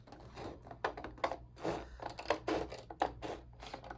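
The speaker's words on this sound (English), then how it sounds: "now I got to take my scissors and cut it out just a little bit" Scissors snip through clear plastic clamshell packaging at close range, giving a quiet series of sharp, irregular cuts and crinkles with no talking.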